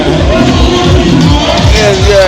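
Dense carnival crowd hubbub, a loud, close mass of overlapping voices and murmuring chatter filling the air with no single sound standing out.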